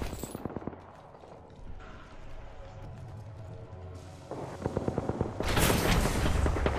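A teammate's gunfire during a fight in the battle royale shooter Apex Legends, heard as repeated sharp shots and rattling bursts at middling distance under a steady game soundscape, growing louder and denser toward the end.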